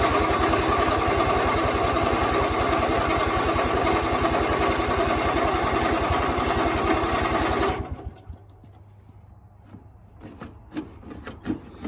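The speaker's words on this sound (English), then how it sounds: "I'm going to try and fire this thing up and drive it over there to where the deck is." A Craftsman II lawn tractor's small engine runs with a steady, rapid chugging drone, loud and close, then cuts off abruptly, leaving faint clicks and rattles.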